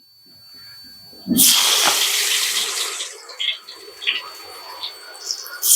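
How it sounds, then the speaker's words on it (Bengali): Chhana (cottage cheese) balls drop one by one into hot oil, setting off a sudden loud sizzle that settles into a steady crackling bubble with small pops, close to the pan. "এখন তেলটা আমার গরম হয়ে গেছে দেখুন এক এক করে আমি তেলটার মধ্যে"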